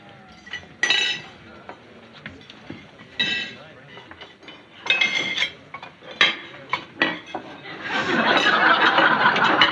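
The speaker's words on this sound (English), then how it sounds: "Would you mind helping me clear the dishes?" Dishes and cutlery clink in scattered bursts as a table is cleared after a meal in a sitcom home dining scene, with light chuckles and a busier run of clatter near the end.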